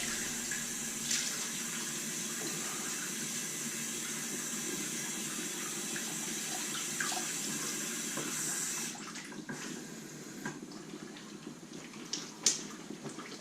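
Water running from a bathroom tap into the sink during a straight razor shave, a steady close hiss for about nine seconds that drops lower and turns more uneven as the flow is turned down, with faint clinks.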